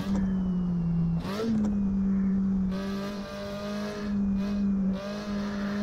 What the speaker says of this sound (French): Cette quatrième est un peu spéciale, ce moteur est brrr.